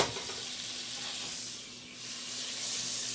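Yellow, white and red onions with vegetables sizzling in a hot pan for chicken fried rice, a steady close hiss that dips briefly and then swells again.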